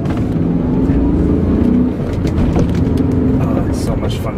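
A BMW E39 M5 pulls away and shifts into second gear, a loud, close engine roar with a brief dip at the change before the rumble picks back up, a voice talking over it.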